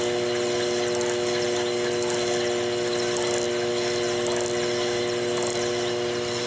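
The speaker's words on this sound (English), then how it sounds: "And now I can just go like this, and I'm polishing that pivot." A motorized polisher spins steadily while polishing a pivot on a banjo clock movement, giving a constant, close-up whirring hum with layered steady tones and no breaks.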